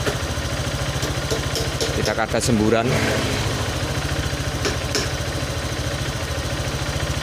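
A Honda Vario motorcycle engine idles steadily with a low, even chugging throughout, while someone talks briefly over it.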